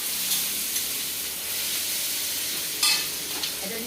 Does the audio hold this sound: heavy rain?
no